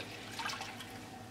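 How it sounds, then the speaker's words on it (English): Water is poured into a tray holding Oasis floral foam, making a faint, brief trickle and splash close by, with no talking. "if I add water, we'll see that water rise up the Oasis"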